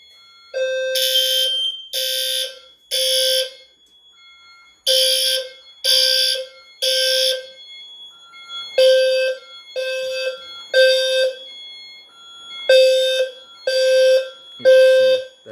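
A fire alarm system sounds during a test, repeating loud, close groups of three electronic tones separated by short pauses, with no talk over it.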